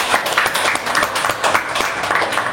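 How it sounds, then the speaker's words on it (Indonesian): Audience applause at a 25th anniversary celebration, a steady dense wash of clapping with rhythmic swells lasting the whole moment, fairly close and lively, no talking over it. "Sekali lagi tepuk tangan yang meriah ya."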